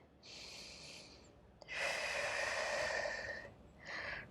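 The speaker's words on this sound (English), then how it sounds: "let's do one more breath here" Deep, drawn-out breaths during a standing Pilates stretch, a long inhale then a fuller exhale lasting nearly two seconds, followed by the start of another breath, close and soft with no talking.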